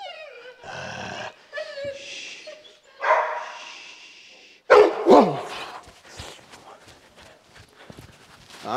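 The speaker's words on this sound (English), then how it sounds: "I'm not sure there if he's even barking at me or the other dog" A Presa Canario dog gives several loud, close barks during a protection assessment, mixed with scuffling footsteps and a few short spoken words from handlers.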